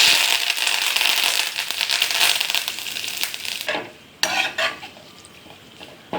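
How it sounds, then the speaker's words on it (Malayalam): Cauliflower fry with curry leaves stirred and sautéed in a pan, a loud, steady scraping sizzle for about four seconds that drops off, then a few brief clattering stirs. "നമുക്ക് നേരത്തെ വെച്ചത് ഒന്നും കൂടെ ഒന്ന് വെറുതെ ഒന്ന് വഴറ്റിയെടുക്കാം"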